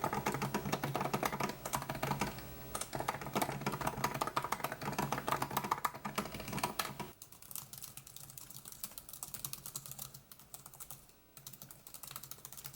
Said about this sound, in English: what you guys have just heard was the keyboard difference between the older model MacBook Pro and the new model